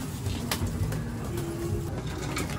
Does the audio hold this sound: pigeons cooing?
yes